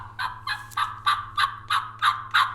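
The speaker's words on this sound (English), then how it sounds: "hopefully they'll gobble back at me" A wild turkey gobbles in a fast, regular series of about eight sharp, rattling bursts, loud and close, with nothing else competing.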